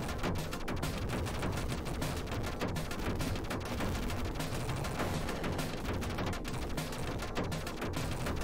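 Continuous rapid-fire shooting in the Sub-Terrania Genesis/Mega Drive game, a loud, unbroken stream of clattering shots layered over dense game noise throughout.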